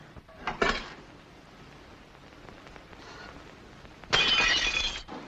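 Glass shatters with a sharp crash early on and a second burst of breaking and scattering shards about four seconds later. A softer rain-like patter fills the space between the two crashes in an old 1940s film soundtrack.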